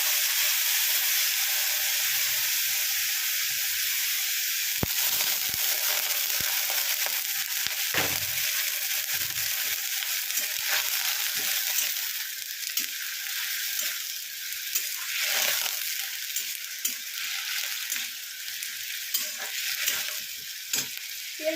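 Grated onion and a splash of water hit a hot frying pan, setting off a loud, steady sizzle with a broad hiss that runs unbroken and up close, with faint stirring scrapes underneath.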